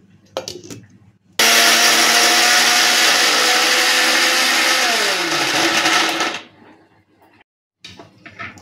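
A blender grinds garlic, coriander and cumin with peanuts in one loud, close burst of several seconds, its whine dropping in pitch as it slows, with brief clunks before and after.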